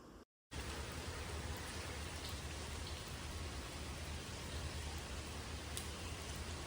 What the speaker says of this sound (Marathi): मस्त पाऊस पण पडतोय बाहेर